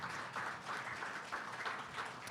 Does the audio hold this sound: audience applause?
yes